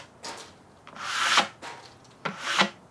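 A knife blade is stropped on a squeegee, giving two soft rubbing strokes that each rise and then end in a brief scrape, close and quiet with no talking.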